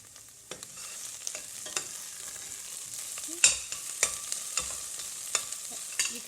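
Chopped onions frying in a pan for a simple chicken curry, a constant soft sizzle broken by repeated sharp scrapes and taps of a spoon stirring, close up with no talking.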